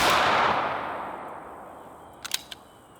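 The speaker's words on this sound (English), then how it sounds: "Was that 5 shots or was that 4 shots? I felt like that was 4 shots." Pistol shots from a SIG Legion P226 handgun: one loud blast with a long decaying echo at the start, then a quick cluster of three or four sharper, fainter cracks near the end.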